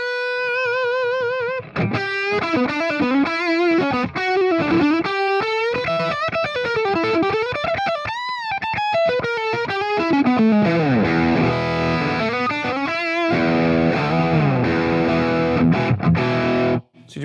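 An electric guitar through an overdrive, fuzz or distortion pedal plays a saturated, sustaining lead with bends, slides and vibrato, then settles into ringing held chords. The tone is loud, thick and close, with no talking over it.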